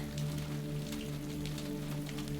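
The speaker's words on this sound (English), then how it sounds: "You listen to the drops of rain as they fall" Steady rain falls in drops on a rainy night, a continuous soft patter with scattered individual drip taps over a constant low background hum.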